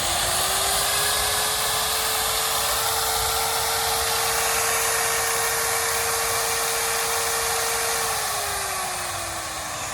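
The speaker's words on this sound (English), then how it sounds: "I just use this to spin dry my pads" An electric polisher at speed 6 spin-drying a wet polishing pad, a loud close steady whirring drone holding one pitch before dipping slightly as it winds down near the end, with no talking.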